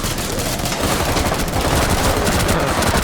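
Rapid bullpup assault rifle gunfire in Rainbow Six Siege, dense sustained bursts at close range, loud and continuous throughout with no talk.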